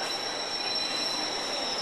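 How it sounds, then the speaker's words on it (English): Wheels of an EPB electric multiple unit train squeal steadily and loudly along the track on departure from Victoria, a continuous high-pitched screech over rumbling running noise with no talk. "train from Victoria"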